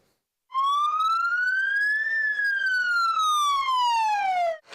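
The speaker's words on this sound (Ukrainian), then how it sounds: "Відбій повітряної тривоги і рятувальники прибувають на виклик." A civil-defence all-clear siren sounds during a Ukrainian emergency-service chemical-attack drill: one loud, clear wailing tone that rises slowly, then falls over about four seconds, with nothing else audible.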